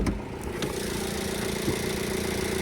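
A 2.4 liter engine in a 2014 Jeep Cherokee Limited idles steadily up close, with an even low rumble and a smooth, unchanging hum throughout.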